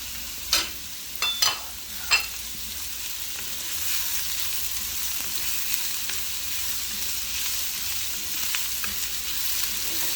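Veggie Szechuan fried rice with spring onions stir-fried in a pan, a few sharp clattering strokes early on, then a steady soft sizzle with occasional light scrapes.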